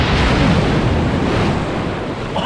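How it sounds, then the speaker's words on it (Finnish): Sea waves washing onto a pebbly sand beach in Albania, a loud continuous roar of surf close to the microphone with wind buffeting, easing slightly toward the end. "Iso aalto."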